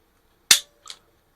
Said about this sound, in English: You can now release your slide lock. Function check.